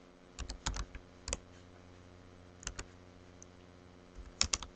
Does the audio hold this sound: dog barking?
no